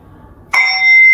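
A metal singing bowl struck once, a sharp attack blooming into a bright sustained ringing tone that hangs on close and clear.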